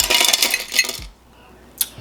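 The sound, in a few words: ice cubes dropped into a glass for iced caramel macchiato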